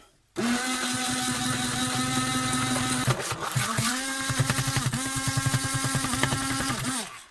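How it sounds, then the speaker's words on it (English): A hand whisk blender runs continuously through courgette cake mixture, its close, loud motor whine dipping briefly in pitch midway before steadying again, then cutting off abruptly at the end. "I'm using a hand whisk blender thing because I don't know where my actual whisk has gone"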